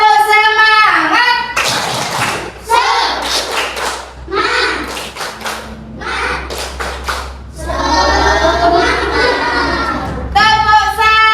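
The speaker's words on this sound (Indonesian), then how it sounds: "kalian tepuk semangat dulu" Children in a classroom do rhythmic spirit clapping, bursts of fast claps and taps alternating with loud chanting and children's voices throughout.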